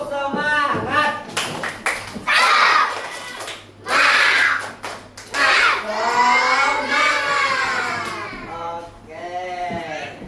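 A classroom of children claps a rhythmic spirit clap in quick bursts, mixed with loud shouted chanting voices close by.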